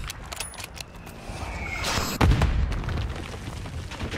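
Mortar rounds land in Call of Duty: Black Ops 6, with a rising whistle building up to one heavy booming impact followed by a rumbling tail and scattered debris crackle.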